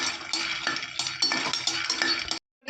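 Peanuts dry-roasting in a pan and stirred with a utensil: close, dry rattling scrapes in quick irregular strokes, ending abruptly.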